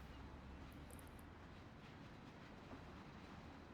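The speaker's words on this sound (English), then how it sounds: "there's train riding sound" A train ride in the video game Mafia: The City of Lost Heaven gives a steady, quiet rumble of rolling rail cars with faint clickety-clack running throughout.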